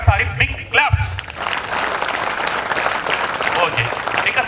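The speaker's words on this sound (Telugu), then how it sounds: "శోధనకు ఒకసారి బిగ్ క్లాప్స్." Audience at a Mahatma Jyotirao Phule Jayanti and silver jubilee celebration breaks into loud, sustained applause that fills the hall after a few opening voices.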